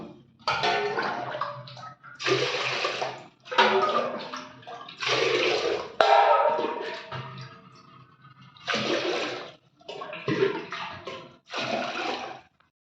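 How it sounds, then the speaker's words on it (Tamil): Water is poured into a cooking pot in a series of about eight splashing bursts, each lasting about a second, separated by short pauses. "அஞ்சு உலக்கு தண்ணி ஊற்றணும்"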